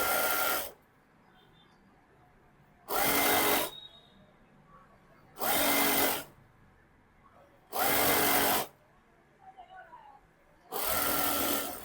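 A sewing machine stitches a folded dress hem in five loud bursts of a few seconds each, separated by quiet pauses as the fabric is repositioned.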